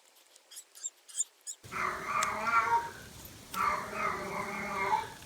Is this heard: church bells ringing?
no